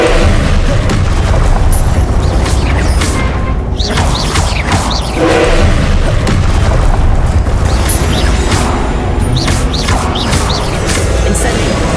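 Fire and blast spells, Incendio and Confringo, cast in combat in Hogwarts Legacy, heard as loud booming bursts and crackling impacts over dense battle noise, with several sharp blasts in quick succession.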